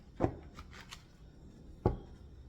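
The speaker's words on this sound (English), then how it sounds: "let's shuffle one more time" Two brisk riffles of shuffled cards, each a quick sharp burst, separated by a pause with faint rustling in between.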